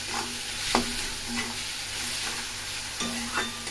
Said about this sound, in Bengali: পেঁয়াজটা ভাজা ভাজা হোক, এর মধ্যে আমি নুন দিয়ে দিই